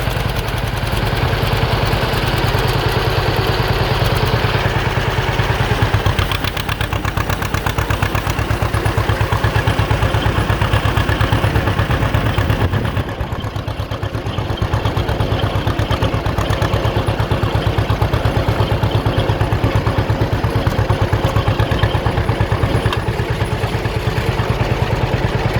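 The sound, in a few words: John Deere B tractor engine running and driving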